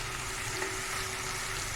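Chili powder and coriander powder being stirred in a hot frying pan, a soft continuous sizzle with faint scraping of the stir, low and steady with no voices.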